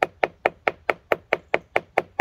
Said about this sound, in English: number of hits with the hammer on this mold